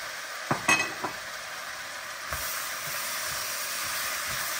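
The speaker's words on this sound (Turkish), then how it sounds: "Devamlı karıştırıyoruz. Etimizle soğanımızı." Beef and onions for goulash sizzling steadily in a pot, with a few sharp clinks of a spoon stirring early on, then a continuous frying hiss.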